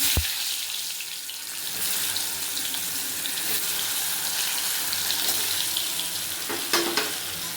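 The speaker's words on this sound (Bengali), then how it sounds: "কচুগুলোও একটু ভেজে নিচ্ছি" Taro root pieces fry in hot oil, giving a continuous crackling sizzle close by, with a sharp knock at the start and a few stirring clatters later.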